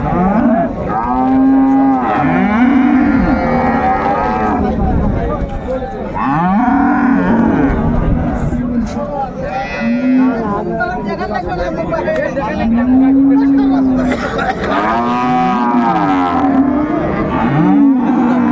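Cattle, dairy cows and calves, low repeatedly at a cattle market in Raniganj, Dinajpur, some close and loud, amid a busy crowd of people talking constantly in the background.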